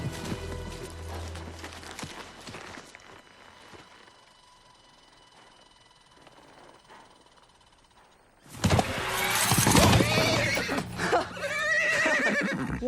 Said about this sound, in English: I got Father's best horse here, and he can't even keep up.